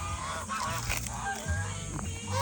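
Several farm geese honk loudly and repeatedly at close range, overlapping calls with a busy outdoor background.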